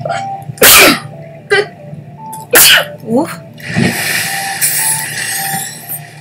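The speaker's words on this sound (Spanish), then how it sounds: "Me da estornuditis." Several sharp, loud sneezes from a person playing Subnautica, bursting out in quick succession with pauses between, followed by a sniffly exhale and some mouth noise, close to the microphone.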